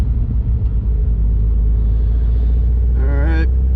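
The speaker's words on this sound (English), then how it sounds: "That is loud. it is loud. It's catless." A 400whp Subaru WRX with a catless exhaust rumbles loud, deep and close, holding a heavy steady drone that swells into a short rising rev near the end.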